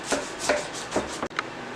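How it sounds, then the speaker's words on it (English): A knife slicing corner to corner through a mesquite turkey club sandwich, four or five short rasping strokes in an even rhythm, close and fairly soft, with no voices. "We're going to slice"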